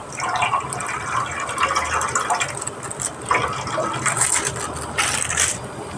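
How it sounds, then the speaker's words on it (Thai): Water is poured into a wok or pan while cooking a Thai/Lao spleen curry (kaeng om), giving a continuous splashing, gurgling fill with brief louder gushes, fairly close, with kitchen clatter and no talk. "ออมเทกระทะทันทีแล้วครับ เทน้ำลงไป"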